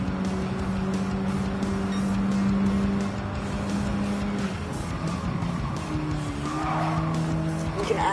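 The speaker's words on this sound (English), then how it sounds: "You can actually drift the Mini." A Mini drifting in Gran Turismo 7, with steady tire squeal over a buzzing small engine, continuous and close, the squeal pitch shifting as the slide changes.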